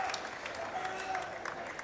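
Applause at a men's college basketball game between John Carroll and Ohio Northern, a steady wash of crowd clapping heard under a commentator talking.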